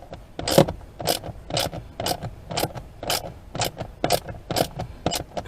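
A ratchet tool works a bolt while a blower motor is being removed from a 2006 Pontiac Torrent, making a steady run of about ten short, evenly spaced rasping clicks, close and unaccompanied by talk.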